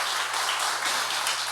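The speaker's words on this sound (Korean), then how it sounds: "박수 한번 쳐주시죠" A church congregation claps for a newly ordained pastor during a Sunday morning service at a Baptist church, a dense, even wash of applause filling the whole moment without a break.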